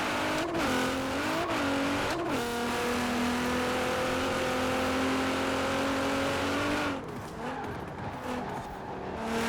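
A racing game car in Forza Horizon 4, a 1000 HP Nissan Pulsar GTi-R, revs hard and loud through a few quick gear changes, then holds a steady high engine drone before easing off near the end.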